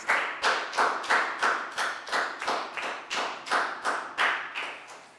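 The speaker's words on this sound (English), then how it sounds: "a big round of applause for Net" A Year 4 class clapping for a pupil in a health lesson, in rhythmic, evenly spaced bursts of claps of near-uniform loudness, close and clear, with no talk.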